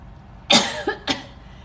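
A single close, sharp cough followed by a smaller second cough, loud and abrupt against a quiet room.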